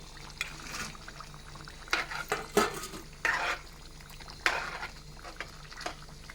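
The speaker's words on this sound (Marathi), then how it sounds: "आता आपण याच्यात पनीर टाकूया" Paneer is stirred into a cooking potato curry in a pot, with soft scraping and irregular clinks of a spoon against the pan coming in scattered bursts over a faint background, with no talking.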